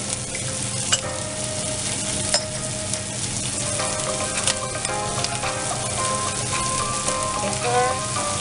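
Tofu frying in a hot pan with squid and chicken, giving a steady, dense sizzle with scattered crackles and pops that runs throughout without pause.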